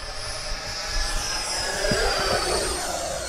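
An FMS Viper 90mm RC jet with an electric ducted fan flies at about half throttle, giving a steady, loud, continuous whooshing whine with a high pitched tone that shifts slightly as it passes overhead.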